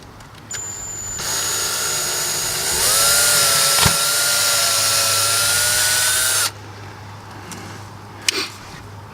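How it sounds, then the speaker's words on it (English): A power drill bores a hole into boat fiberglass, with a high motor whine that rises in pitch as it spins up, holds steady for several seconds, then cuts off, followed by a couple of faint knocks. "So the first thing I'm going to do is"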